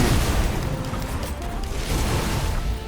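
Video-game fireworks going off as a dense, steady stream of booming and crackling bursts, moderately loud, with no talk over them.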